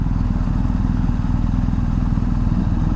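BMW R1250GSA motorcycle riding, a steady low engine drone with rumbling wind noise, continuous and close throughout with no breaks.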